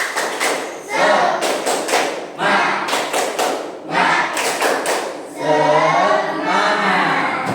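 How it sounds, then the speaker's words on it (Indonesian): A group claps out a rhythmic Indonesian spirit-clap pattern together, bursts of sharp hand claps in repeated groups with brief pauses, loud and close, with voices joining toward the end. "Tepuk semangat itu, Ji. 1, 2, 3. Tepuk semangat."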